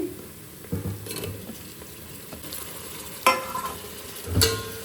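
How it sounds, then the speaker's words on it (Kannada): Tomatoes dropped into a pan of frying masala: a soft steady sizzle broken by a few sharp spikes and clanks as they hit the hot oil and are stirred, close by and without speech. "ಇವಾಗ ಈ ಟೈಮಲ್ಲಿ ಟೊಮ್ಯಾಟೊ ಹಾಕೊಂಡ್ಬಿಡ್ತೀನಿ"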